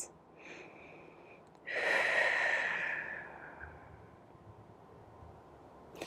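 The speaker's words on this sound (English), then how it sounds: "Nice deep breaths" A single deep breath during a Pilates sculpt-and-tone workout: a long, airy exhale that swells suddenly, then tapers off slowly over a few seconds, close and fairly quiet, with no talking.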